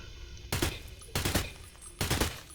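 Three short bursts of automatic fire from a self-built rifle in Escape from Tarkov, each roughly half a second long with brief pauses between, loud and close with no talk over them.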